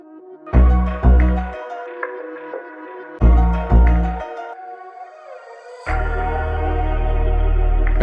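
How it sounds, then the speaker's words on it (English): Piano melody chopped into a beat sample with every two beats played backward, giving swelling reversed chords over punchy low bass hits, then a sustained heavier bass section entering midway; no talk. "I used the piano melody, but I reversed it after every 2 beats"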